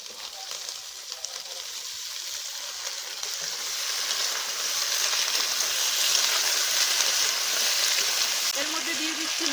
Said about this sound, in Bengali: এখন ভালো করে এগুলোকে ভেজে নেব